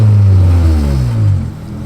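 A car engine revs loudly and close, a deep rising and falling roar with strong low harmonics that swells, holds, then drops away near the end.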